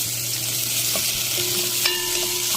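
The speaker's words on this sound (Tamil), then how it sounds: "நல்ல ஒரு பெரிய வெங்காயத்தை வந்து சின்னதாக கட் பண்ணி வச்சுருக்கேன். அதையும் வந்து இதில் சேர்த்துக்கலாம். சேர்த்துட்டு வதக்கி விட்டுக்கோங்க." Chopped onion sautéing in hot oil with fennel and fenugreek seeds for a Thanjavur crab curry, a steady close sizzle and fry hiss with a few faint stirring clinks.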